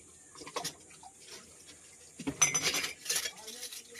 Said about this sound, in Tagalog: Hugasan ko itong mga ginamit namin.